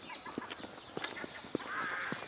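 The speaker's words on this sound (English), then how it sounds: "I can hear geese," Geese honk in short, spaced calls somewhere near a trail in West Ham, several distinct honks over a soft outdoor background, one louder and closer than the rest, with no talking.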